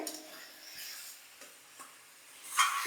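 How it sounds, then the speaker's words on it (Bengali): Potatoes sautéed with spice mix in a pan: faint scraping stirs and soft sizzling, a few brief strokes over about three seconds, quiet and close, ending in a brighter scrape. "এবার এই আলু মশলার সাথে আলুগুলোকে এবার কষতে হবে"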